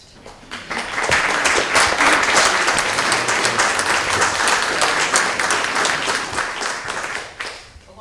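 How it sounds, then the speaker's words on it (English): A town meeting crowd in Jamaica, 2024, applauds the select board: clapping swells within the first second into a full, steady ovation for several seconds, then tapers off near the end. "I would actually ask if we could give your select board a round of applause for that."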